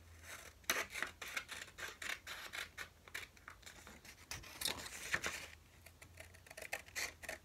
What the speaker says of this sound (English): I'm just going to pull out a piece of paper of my notepad. And I'm going to cut it so it's nice and